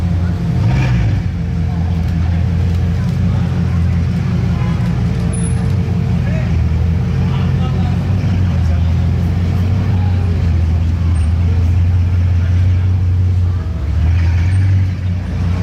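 A Bugatti Divo supercar's deep, throaty engine rumble resonates loudly and continuously nearby in Monaco, with low droning tones and some street noise around it.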